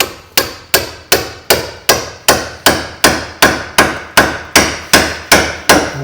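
A hammer taps a ball joint splitter wedged between the hub and bottom wishbone arm of a Rover 75, giving fifteen or so sharp, evenly spaced metallic strikes, each with a brief ringing decay, loud and close with no talking.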